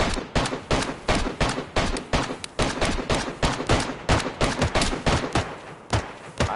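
Rapid, steady bursts of close gunfire ring out in DayZ, a dense rhythmic volley of sharp shots repeating with little pause for several seconds.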